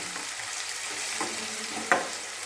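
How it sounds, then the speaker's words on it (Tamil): Turkey berries (sundakkai) frying in a pan, a steady soft sizzle running throughout with a brief louder clatter near the end, no voices. "இது சுண்டக்காய் நல்லா வதக்கணும்."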